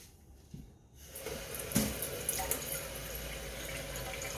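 Water poured into a cooking pot for collard greens and turkey necks, starting after a quiet second with a splash and then a steady, close, moderately loud rushing fill that runs to the end.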